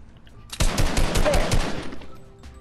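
Rapid bursts of gunfire from Fortnite Season 9 crackle loudly and densely for about a second and a half, then taper off as players chatter faintly over it.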